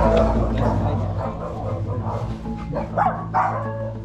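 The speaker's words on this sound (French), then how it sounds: "Il y a beaucoup de chiens ici." Dogs on a street in a dangerous Colombian city bark in several short, mid-distance bursts over steady traffic-like rumble and people talking.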